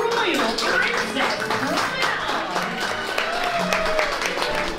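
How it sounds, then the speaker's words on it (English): Diners applauding a royal princess during a princess promenade at the Akershus Royal Banquet Hall in Epcot, scattered clapping mixed with restaurant chatter and overlapping voices. "please applaud our royal princess"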